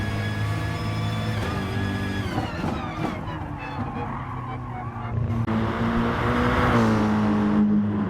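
A BMW race car in a racing video game at Spa powers down the main straight, its engine note droning and climbing steadily with tire squeal mixed in, loud and continuous with no talk over it.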